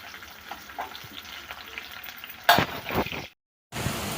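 Tempering spices and garlic sizzle in a pan for a carrot fry, a soft steady crackle, then a louder burst of scraping and stirring, a brief gap of silence, and the frying resumes.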